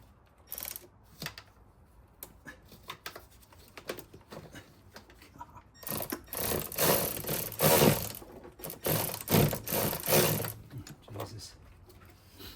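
A ratchet and socket work on the engine of a 2008 Chevy Colorado 3.7L, a valve cover gasket repair, with scattered clicks and mechanical rattles that grow denser and louder midway, while a voice talks intermittently.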